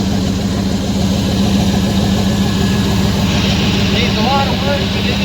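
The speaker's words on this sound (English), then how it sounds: "Chevy Caprice Classic runs. It just turned over." A 1977 Chevy Caprice Classic with a 350 V8 and a one-barrel carburetor, needing a lot of work, idles steadily with a low rumbling pulse, close and loud, while a person talks over it.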